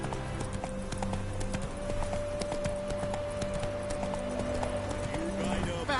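Hooves of the horse Roach clip-clop in a steady trotting rhythm through a Witcher 3 game world, with a sustained musical tone running beneath, and a voice speaking over the hoofbeats.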